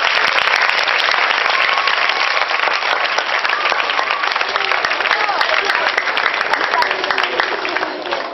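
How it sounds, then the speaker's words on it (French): Audience applause at a primary school prize ceremony for a dictation contest winner, steady and dense crowd clapping that fills the whole stretch at a loud, even level, with a voice partly audible beneath it. "Est-ce que nous pouvons l'applaudir?"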